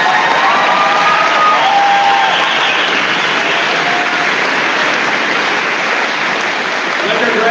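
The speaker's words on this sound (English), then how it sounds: "Let's give our graduates a round of applause." An audience at a commencement ceremony applauds graduates, loud sustained clapping and cheering with scattered voices calling out over it.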